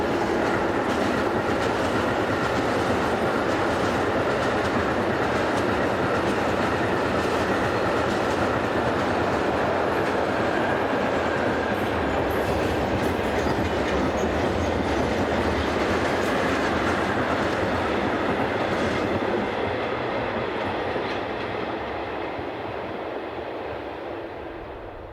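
A German class 152 electric freight locomotive, number 152-145, hauls a heavy freight train across a bridge over the Rhine-Herne Canal, a loud, steady rumble and clatter of wagons that runs throughout and fades slightly at the end.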